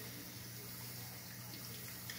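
Water rushes steadily into a dishwasher being cleaned of excess soap, a soft continuous hiss and trickle at low level with no voices.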